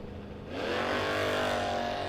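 A Mustang and a Capri drag racing at a no-box 660 shootout, with a loud roaring engine surging in after a quieter start and holding a steady, rising drone as the cars launch down the strip.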